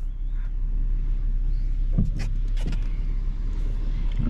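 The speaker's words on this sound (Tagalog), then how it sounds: "And now it's traffic." Road traffic in holiday congestion passes close by, with a low steady engine rumble and several brief whooshes and clunks from passing vehicles, heard from inside a truck cab.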